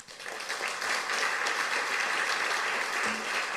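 An audience applauds at an airport announcement event in San Antonio, a dense steady wash of many hands clapping that rises quickly and holds for several seconds.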